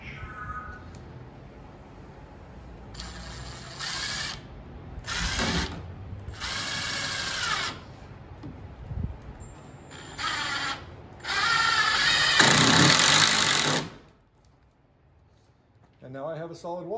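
A power drill drives a construction screw through two pieces of a warped wall, pressing down on a shim. The drill whirs up close in about five short bursts, with quiet pauses between them and a longer final burst.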